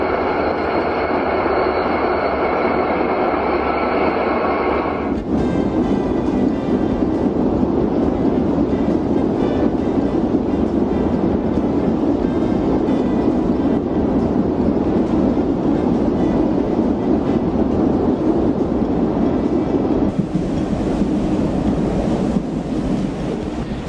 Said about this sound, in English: The eastbound freight gets the clear signal and pulls out,